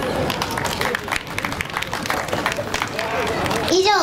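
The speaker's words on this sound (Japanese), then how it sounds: "大きな拍手" Audience applause after a live performance by a singer at Isetan Matsudo, a dense wash of clapping from a crowd with murmuring voices mixed in, steady throughout and swelling slightly near the end.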